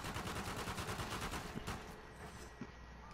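Gunfire in the video game Uncharted, a dense loud rattle of rapid automatic shots that fades after a second and a half, leaving a few scattered reports.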